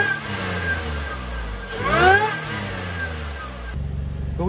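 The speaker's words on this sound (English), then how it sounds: "You can hear the blower really good up in the front" A supercharged car engine idles with a deep rumble and rises in a rev, pitch climbing and falling, its raspy exhaust leak and supercharger whine clearly audible up close.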